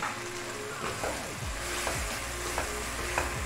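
Boiled potato cubes are mixed into sizzling masala in a pan for aloo bhujia, a steady frying hiss broken by repeated soft scrapes of the spoon.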